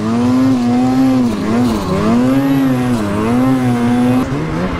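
A race snowmobile engine, a 600 RS, strains hard while pulling uphill, its loud, steady drone rising and dipping in pitch through repeated throttle swells with no pause.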